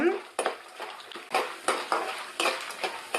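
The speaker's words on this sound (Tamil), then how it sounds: "அதுக்கப்புறம் கரண்டி வச்சு ஒரு டைம் நல்லா கலக்கி விட்டுக்கலாம்" Peanuts frying in a pan are stirred with a ladle, giving repeated scraping clinks in a steady rhythm of six or seven strokes over a faint sizzle, close and fairly quiet with no talking.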